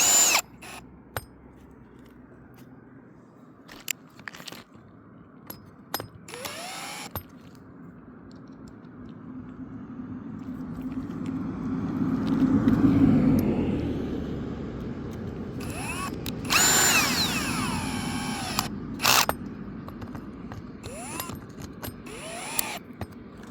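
A power drill drives a screw into a 3D printed tie plate, with several short bursts of whirring early on, then a longer louder grinding stretch and more bursts toward the end, close and without talk.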